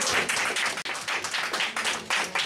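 An audience claps for artist Gilbert Young at an artist talk, a dense patter of many hands that continues with small swells and dips, near and moderately loud, without speech.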